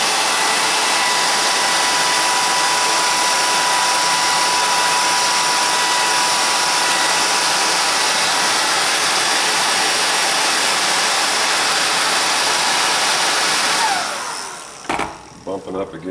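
A hair dryer blows a loud, steady, hissing rush of air to dry wet paint, running without a break for most of the time before cutting off, followed by a few faint handling knocks.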